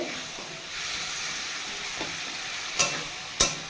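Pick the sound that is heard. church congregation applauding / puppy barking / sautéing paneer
sautéing paneer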